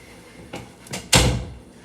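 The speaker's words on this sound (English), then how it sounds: "I'm gonna go close the door." A room door being shut at home, a few soft handling noises followed by a firm thud of the door closing nearby.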